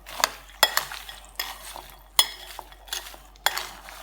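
Spicy adobo peanuts are stirred in a pan, with a utensil scraping and clinking against the metal in irregular bursts over a faint sizzle, close and fairly loud.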